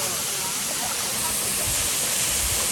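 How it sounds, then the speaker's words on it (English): A waterfall along a hiking trail on Ilha Grande, Brazil, roars loud and close in a continuous rushing wash with no break, while a voice can be heard briefly over it. "That's the waterfall."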